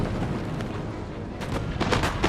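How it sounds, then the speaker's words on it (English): Scattered musket fire from skirmisher lines trading shots in a Napoleonic-era battle in Napoleon: Total War, heard as a low rumbling battlefield bed with several sharp, moderately distant cracks bunching up toward the end. "Skirmishers begin to engage one another now in early combat, picking targets and firing at will"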